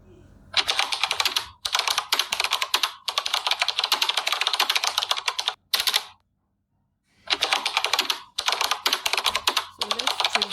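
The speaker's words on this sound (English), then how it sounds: "Typing on a keyboard." Keyboard typing sound effect: rapid, dense keystroke clatter in several bursts separated by short pauses, including a near-silent gap in the middle, close and loud with no talking.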